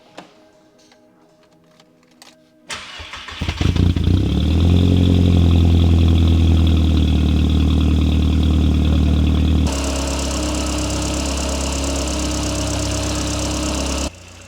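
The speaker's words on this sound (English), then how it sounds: "let's start this thing up and get it warmed up first" Volkswagen GTI car engine cranks after a few faint clicks, catches with a rising roar, and settles into a loud steady warm-up idle that later drops to a slightly quieter, smoother idle before cutting off.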